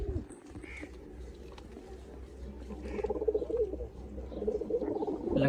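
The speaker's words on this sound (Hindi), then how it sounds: "बाकी ये देखें कबूतर," Pigeons coo softly and repeatedly nearby, low murmuring calls overlapping amid faint rustling and background noise.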